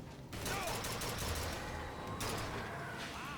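Rapid bursts of gunfire from the video game BioShock Infinite ring out loud and close, a dense fusillade running almost continuously with no talk over it.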